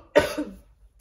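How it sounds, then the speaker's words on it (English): A single sharp cough close to the mic, followed by a brief trailing throat sound, then quiet. "again, guys, I apologize for my coughing."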